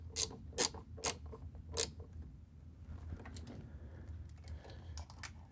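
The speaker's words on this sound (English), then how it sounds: "Now what we're going to do is stick the socket wrench in there and snug it down." A ratcheting socket wrench snugs down a bolt on the vacuum pump of a MINI Cooper S R55/R56 with an N14 engine: four sharp, evenly spaced clicks up close, then fainter, quicker ratcheting.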